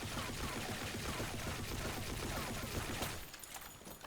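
Rifle fire in the shooter game Blackshot, a continuous rapid automatic burst that runs loud and dense for about three seconds and then cuts off, leaving a faint tail.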